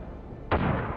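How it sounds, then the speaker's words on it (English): Ukrainian artillery and a Leopard tank firing on a Russian column: a single sharp, loud boom that cuts in and rolls off over a low background rumble. "Ukrainian artillery and the Leopard open fire on the column."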